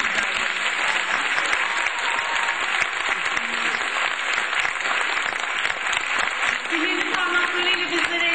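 Loud, sustained applause from the audience at a Turkish art music concert by a university music club, dense and steady throughout.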